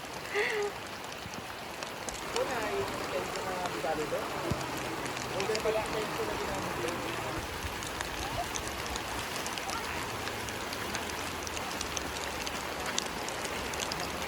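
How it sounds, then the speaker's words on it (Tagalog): Steady rain falls at a riverside car campsite at River Ranch in Tanay, Rizal, a constant soft patter heard throughout while people talk nearby. "Eto, inuulan na kami."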